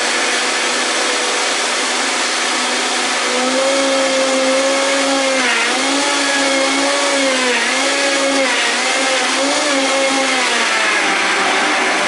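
A Vitamix blender running near maximum speed, blending romaine into a green smoothie with spinach, cucumber, avocado, apple and pear, gives a loud, steady whine that dips and recovers in waves as the load shifts.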